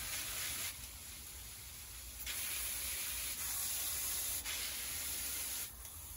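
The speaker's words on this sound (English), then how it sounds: "I'm trying out all 9 spray patterns." A hose nozzle sprays water in a steady, loud hiss, with brief breaks and changes in intensity as the pattern shifts.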